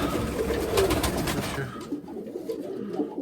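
Pigeons of the Mykolaiv breed coo softly in a loft in Kamianske, a murmur of low calls under steady rustling for the first half, then quieter with a few scattered coos.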